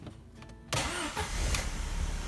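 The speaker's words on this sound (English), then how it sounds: "Now we're gonna go ahead and start the car." A car engine cranks and catches after an exhaust leak repair, a sharp burst of starter noise after near-silence, then settles into a steady, close idle.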